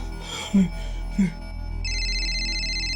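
A telephone ringtone starts partway through, a bright repeating electronic tone that rings steadily and loudly after a couple of short thuds and faint voice sounds in a quiet indoor room.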